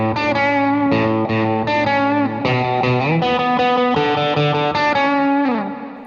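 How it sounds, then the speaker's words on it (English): Electric guitar riff played through a Tube Screamer overdrive pedal, distorted and sustained with shifting chords and slides, loud and continuous with no talking. "now if I were to turn the Tube Screamer on and play that same riff."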